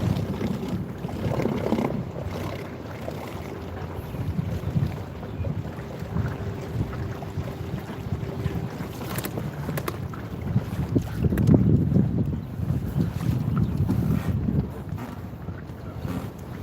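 Wind blowing outdoors on the water during urban bass fishing from an inflatable boat, a steady rumbling buffet against the microphone with gusts swelling louder around the middle, no talking heard.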